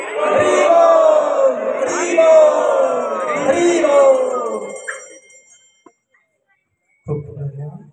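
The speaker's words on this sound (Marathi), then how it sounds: "जोरदार टाळ्या होऊ द्या." At a village Hare Krishna festival, a crowd lets out loud, sustained cheering and shouts for about five seconds, then goes quiet before a brief burst of voices returns.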